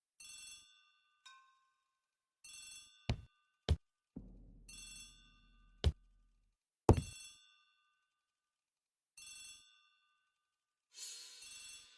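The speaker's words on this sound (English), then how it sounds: "The telephone in the hall is ringing." A telephone bell rings in a hall in an Agatha Christie ABC Murders detective video game, in short spaced bursts of trilling rings separated by silence and a few sharp clicks and thumps.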